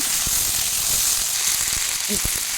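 Potatoes sprinkled with sugar sizzle in a hot pan while being gently stirred, in a Bengali flat bean and potato fry. A steady bright hiss runs throughout, broken by soft scraping and knocking of the stirring utensil.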